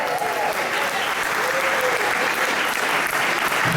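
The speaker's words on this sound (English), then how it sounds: "everybody give me a round of applause." An audience at the British Blues Awards 2013 ceremony breaks into loud, sustained applause, a dense crackle of many clapping hands filling the room from start to finish.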